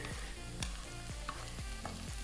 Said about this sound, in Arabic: البصل تاعنا راهو يتقلى بوتي تا بوتي